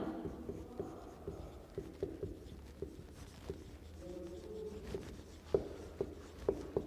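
Pen scratching on paper in a quiet room, steady faint strokes with regular small taps as letters are written, close and alone with no voices.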